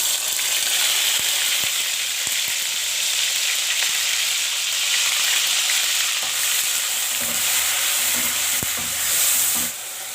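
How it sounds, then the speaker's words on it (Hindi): Onion paste made from a large onion fries in hot oil for a kebab masala, a steady close sizzle filling the whole stretch with a few sharp spoon-against-pan knocks and scraping stirs toward the end. "अब इसको ऑयल में शामिल कर देंगे।"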